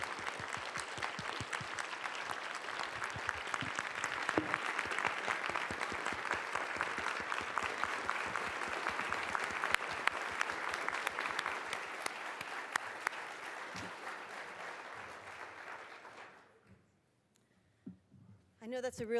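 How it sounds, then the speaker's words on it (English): A conference audience applauds at the close of a talk, a sustained burst of dense hand clapping lasting about sixteen seconds before fading to near silence, with a few faint sounds after. "Please join us in another round of applause for Timothy Bouldry."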